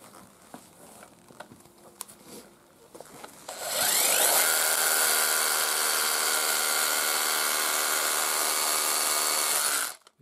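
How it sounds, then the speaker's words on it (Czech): A Parkside cordless hammer drill bores into concrete: after a few seconds of quiet handling and shuffling, it kicks in with a loud, steady, buzzing whine and hammering rattle, holding for about six seconds before cutting off. "A já teď vytáhnu svůj kanón, takže klasická příklepová vrtačka."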